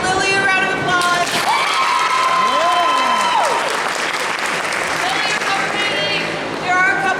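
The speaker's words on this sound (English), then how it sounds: "So let's give Lily a round of applause" Audience applause at a school band award ceremony, steady and fairly loud clapping that continues throughout, with a few voices and light cheering woven in.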